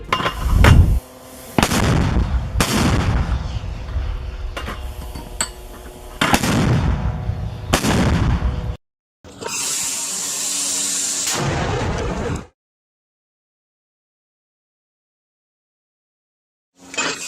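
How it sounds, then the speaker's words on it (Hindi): Bombardment fired by Hamas toward Israel: repeated heavy booming blasts of artillery-like fire, loud and close, followed by a sustained roaring rush of noise, then silence and a final thud. "हमास की तरफ से इजराइल पर बमबारी करने का एक छोटा वीडियो"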